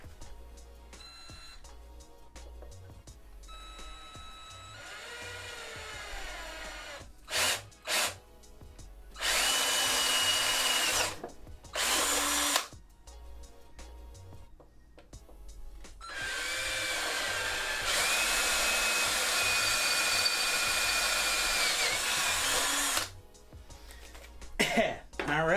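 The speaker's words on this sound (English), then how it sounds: "have a 3/8 inch drill. Nice porta cable" A 3/8 inch Porter-Cable electric drill whirs in several bursts, short stop-start pulses followed by longer sustained runs, loud and close, with brief coughing and throat clearing between bursts.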